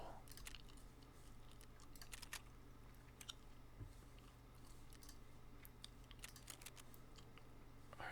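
Gum chewing close to the mic with soft, irregular wet smacks, over scattered quiet keyboard taps and mouse clicks while playing Escape from Tarkov. The sound is very faint and intimate, with no talking.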